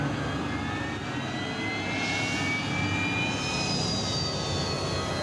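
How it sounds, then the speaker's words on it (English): Airshow airplane engine starting up before a stunt with a hang glider, a loud steady turbine-like roar with a rising whine that climbs gradually, heard close and alone. "I go to start the airplane."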